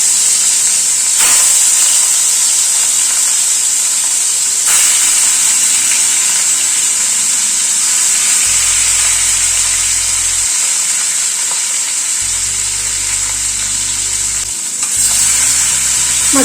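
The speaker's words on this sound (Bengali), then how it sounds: "তেলটা গরম হওয়ার পরে মাছটা ছেড়ে দিচ্ছি।" Fish frying in hot mustard oil in a kadai on a gas stove, a loud, dense, continuous sizzle and crackle close up, steady throughout with a couple of sharper pops.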